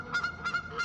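Ducks by a forest lake give three loud, nasal honking calls in steady succession, each call a short cluster of harsh honks, with no voices.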